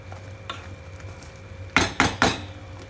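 A spoon clanks three times in quick succession against a pan of simmering mustard paneer curry with fried cottage cheese, after a stretch of quiet low bubbling.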